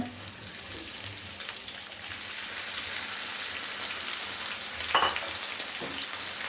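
Chopped chicken fries in hot oil with onions already browned, a constant close hiss and crackle with a couple of sharper spatters and stirring taps.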